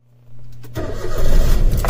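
A car engine cranks and catches at close range, the starter whir giving way to a rising, steady running roar that stays loud through the end, with no voices over it.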